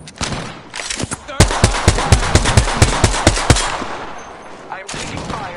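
Rapid automatic gunfire in the Destiny 2 video game rattles off in a loud, close burst of about a dozen evenly spaced shots, with a few scattered reports before and after.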